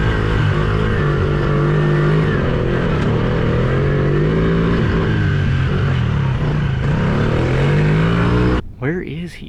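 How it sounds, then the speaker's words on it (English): An off-road motorbike engine drones from far away, a faint wavering whine that rises and falls as it climbs out in open terrain, with wind or handling noise close by and a brief disturbance at the end. "I don't even hear his bike anymore. Oh wait, I hear it now."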